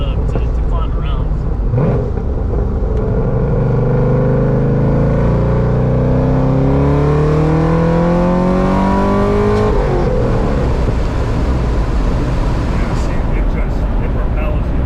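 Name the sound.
2013 Chevrolet Corvette 1LT engine accelerating while driving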